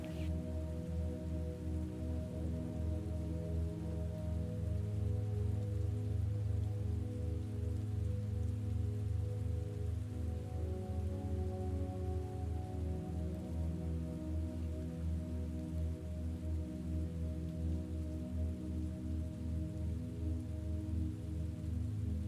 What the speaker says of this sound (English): starting to rain hard again.